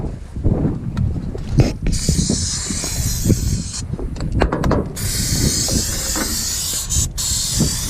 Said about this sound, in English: Spray a lot of maintenance spray down that because I think it's sticking the metal to the metal.